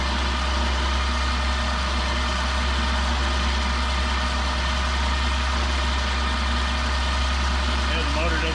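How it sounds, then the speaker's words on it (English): An electric winch motor winds up with a steady, heavy droning hum, loud and close, running without strain and holding constant throughout. "the motor doesn't sound like it's having any difficulty at all"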